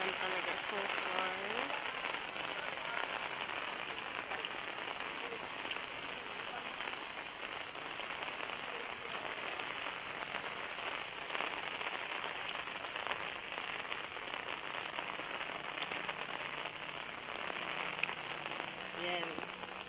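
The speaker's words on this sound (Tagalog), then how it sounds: "Sobrang lakas po ng ulan at saka madilim ang kalangitan." Heavy storm rain pours down under a dark sky, a dense, unbroken hiss of drops drumming on surfaces that stays steady and fairly soft throughout.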